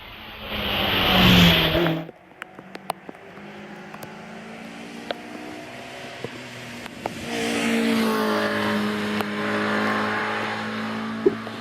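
A four-wheel-drive Mortaya hillclimb race car with a 2.3 litre Subaru engine at a British Championship hillclimb at Doune, roaring loud and near before fading into a distant engine drone with scattered clicks and clacks.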